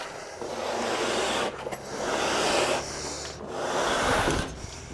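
Utility knife tip scoring drywall along a square, three long rasping strokes of scraping friction, close and clear, separated by short pauses.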